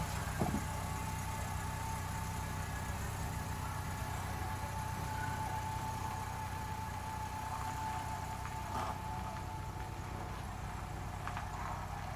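A 2005 Honda Civic EX engine idles in a steady, low, continuous hum with faint vibration and occasional small clanks nearby.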